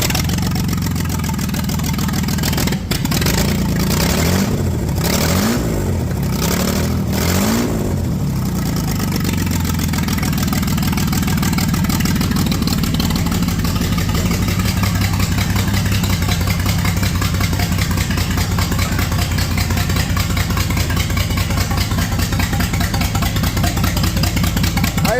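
A Ford 300 inline-six idles low and steady, its loud, continuous rumble filling the space, with a few uneven pulses early on before settling into an even drone.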